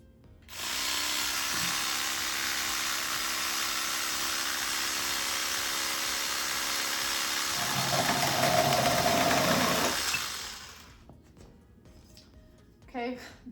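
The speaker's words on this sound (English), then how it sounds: "I'm just using a little Black & Decker compact saw" A Black & Decker compact power saw cuts wood into 5-inch pieces for a side table makeover: a loud, steady motor whine runs close up for about ten seconds, roughening and deepening near the end as the blade bites, then cuts off, leaving faint handling clatter.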